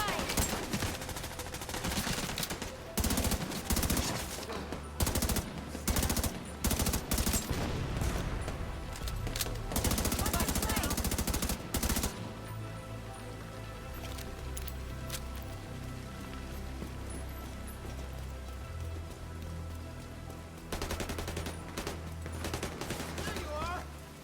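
Gunfire in the shooter game The Division 2: dense bursts of automatic rifle fire and rattling volleys come in clusters, loud and close, then give way to quieter combat ambience and music before another burst near the end.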